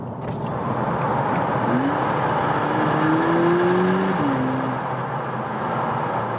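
Steady low engine drone heard from inside a 2022 VW Polo GTI facelift, rising briefly in pitch as it revs, then settling back to a constant hum.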